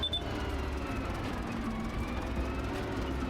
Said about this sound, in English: Sounds a bit rough, this tractor